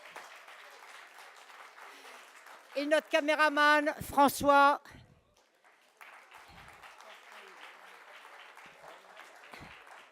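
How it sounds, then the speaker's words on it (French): An audience at a French debate event applauds, steady clapping running beneath someone speaking into a microphone, with a brief louder burst of voices or music partway through. "on va l'applaudir"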